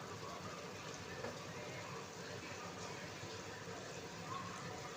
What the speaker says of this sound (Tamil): தண்ணி கொஞ்சம் ஆட் பண்ணிவிடுங்க குழம்புக்கு